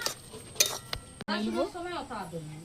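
A spatula scrapes and clinks through thick semolina halwa in a pan for about a second, then a voice talks over faint background noise.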